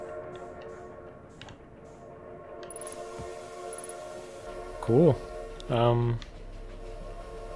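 A steam-style train whistle blows twice in an Outer Wilds mod game featuring a train built from planets, two loud separate harmonic toots near the end over a steady low rumble, with a person talking briefly earlier.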